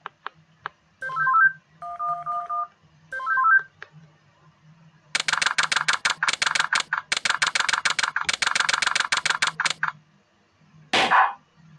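A cell phone in the Henry Stickmin video game beeps through a few short dial tones, then rattles off rapid dense keypad tone bursts, ending with a sharp burst.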